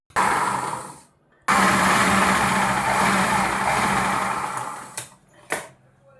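A sewing machine stitches a straight seam joining two loose layers of a baby cap, running in close, loud bursts: one short run, a pause, a longer steady run that tapers off, then two brief taps.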